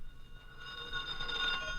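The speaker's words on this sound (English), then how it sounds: "Answer the phone, Jerry, I'm tying my tie." A telephone bell rings in a 1949 NBC radio comedy pilot, a bright, repeated ring rising in loudness against a quiet background, with no speech.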